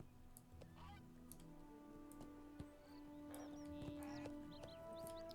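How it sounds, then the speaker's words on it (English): Within the Lord of the Rings Online video game, a goose gives a few faint, scattered honks over quiet outdoor ambience in a hobbit village, with soft hoof-like clops in the background. "There's a goose."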